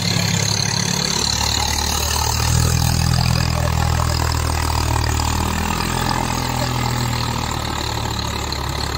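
A tractor engine idling close by, a steady loud low rumble that holds for the whole stretch with no voices.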